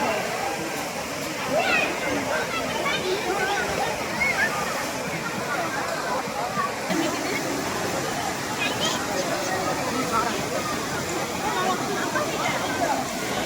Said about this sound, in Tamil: தண்ணியே பார்த்திங்கன்னா அருவி மாதிரி கொட்டிகிட்டே தான் இருக்கும்